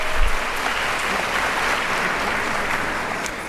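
A standing audience at a medical school white coat ceremony applauds, a loud, continuous wash of clapping that holds steady and eases slightly toward the end, with no talk.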